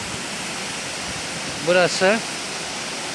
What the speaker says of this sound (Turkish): Bu görmüş olduğunuz arkadaşlar Karasu Şelalesi.